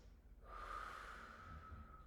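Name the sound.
two sniffs and a long exhale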